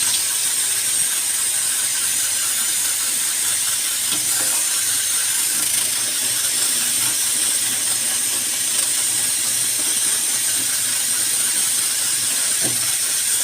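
Bhatura deep-frying in hot oil, a loud steady hiss and crackle that fills the whole stretch, close and unbroken, with faint occasional clicks and no speech.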